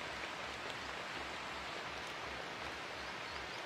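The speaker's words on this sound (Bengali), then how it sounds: "প্রচন্ড বৃষ্টি, বৃষ্টির মধ্যে ভিডিও করছি।" Heavy rain pours down in a constant, dense hiss of drops, steady and fairly close throughout with no other sounds standing out.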